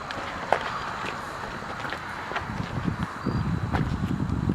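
Footsteps crunch outdoors on rough ground in a quiet, uneven rhythm, with a few faint clicks and rustles, and no talking.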